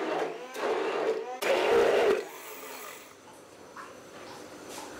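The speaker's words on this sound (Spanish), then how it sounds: "se cortan los frutos en pedazos y se pasan por la licuadora" A kitchen blender chops pieces of cut tomato, whirring in two loud bursts of a second or so each, then stopping and leaving quieter room noise. It is heard close up, with no speech.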